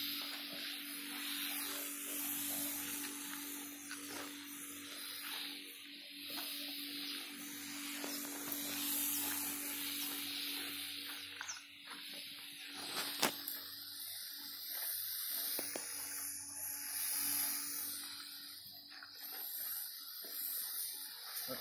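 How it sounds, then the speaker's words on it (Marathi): A sprayer hisses steadily as it sprays jivamrut over a sugarcane field in a natural farming plot, a faint, continuous spray with a low hum underneath and a few small clicks. "आणि जीवामृतची दुसरी फवारणी आहे"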